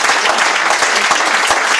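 An audience at a football club talk event claps warmly, dense continuous applause filling the room, loud and sustained.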